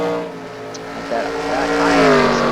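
Racing video game trucks, including a Chevrolet Silverado, roar past at speed, with a steady engine drone that rises in pitch as one accelerates, loud and close.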